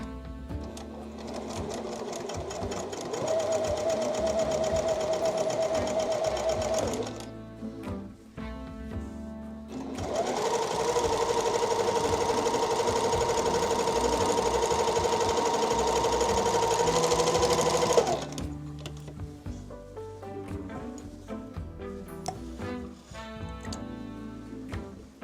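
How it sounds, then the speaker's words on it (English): Sewing machine stitching quilt strips, running in two long fast-whirring bursts separated by a brief pause, then stopping for softer handling clicks and rustles, close and clear with no talking. "I have been sewing for about 10-ish minutes now."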